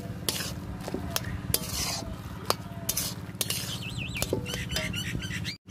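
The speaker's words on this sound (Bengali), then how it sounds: "দিয়ে একটু নাড়াচাড়া করে নেব ভালো করে" Spices, ground coriander and cumin, being stirred into vegetable chorchori in a pan, with a steady low sizzle. Repeated sharp scraping knocks of a spoon sound over it, close and moderately loud.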